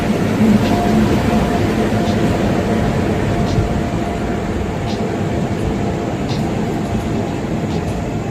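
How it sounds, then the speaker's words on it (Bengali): A passenger train hauled by a goods locomotive rolls past at a station, a continuous close rumble and rattle of wheels and coaches holding steady throughout. "মালগাড়ির ইঞ্জিন দিয়ে ট্রেন যাচ্ছে।"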